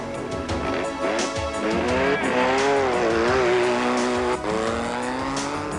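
A rally car races on a rough stage in the 1988 Venda Sun 400, its engine loud and close, rising and falling in pitch as it revs hard, with tyre noise throughout.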